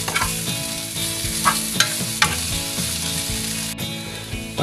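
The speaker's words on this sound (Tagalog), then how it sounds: "Haluin ko ulit." Buttered sole fish fillet is stirred in a frying pan, with steady sizzling broken by several sharp scraping clinks of the utensil against the pan, close and alone.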